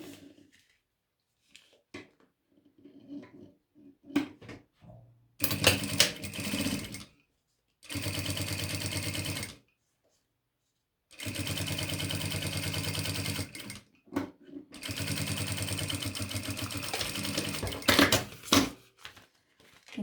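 Sewing machine running bursts of stitching as seams are sewn through plastic, with several separate runs of a few seconds each and quiet pauses between them, close and clear.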